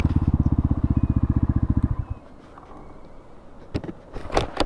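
A CX250RR motorcycle engine putters close by in a quick, even run of pulses for about two seconds, then cuts off. A few sharp clatters and knocks follow.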